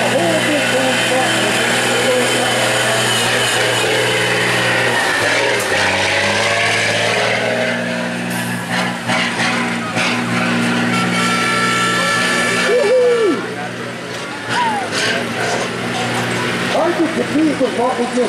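Big supermod semi tractors at a night truck pull, Thunder in the Parkland 2018, roar with a heavy sustained engine drone that surges and shifts, with crowd noise and a voice over a loudspeaker.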